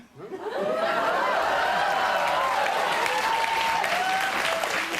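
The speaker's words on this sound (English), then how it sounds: "What are you applauding?" Loud studio audience applause swells in quickly and holds steady, with scattered chuckles and laughter threaded through the clapping on a talk show.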